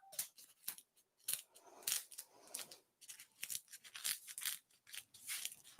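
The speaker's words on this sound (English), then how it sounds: "now let me cut this stem down" Scissors snip through a flower stem while a hanging floral arrangement is made, giving a quiet series of short, crisp cuts and clicks up close, with no speech.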